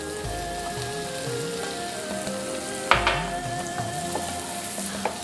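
Onion, beans and carrot sauté in a pan with a steady, close sizzle and a few clinks and scrapes of stirring, with no talking.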